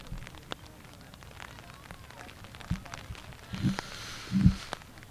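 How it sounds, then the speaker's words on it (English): Steady rain falls at an outdoor girls' varsity high school soccer game as a soft, continuous hiss, with a few louder thumps or footsteps near the end. "Rain slowly slowing down right now."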